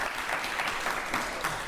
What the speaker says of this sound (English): So I just applaud you until I can't applaud no more.